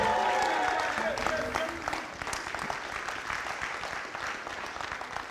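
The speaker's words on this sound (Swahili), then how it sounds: "Mpigie makofi. Tumpigie makofi" Loud applause from a crowd at a music launch event, dense clapping that slowly thins out, with some voices mixed in at the start.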